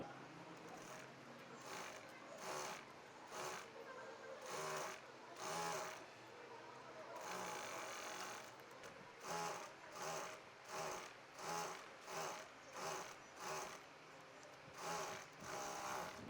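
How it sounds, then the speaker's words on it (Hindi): Sewing machine stitching shirring lines on fabric with elastic thread in the bobbin, while an old kaftan is turned into a shirred top; repeated bursts of motor whir run one after another, close and steady, with no talk. "एक सिलाई लगाने के बाद दूसरे निशान के ऊपर से दूसरी सिलाई लगा देंगे।"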